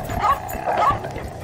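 Dogs hunting a large animal let out two short bursts of high yips and whimpers, fairly close and loud.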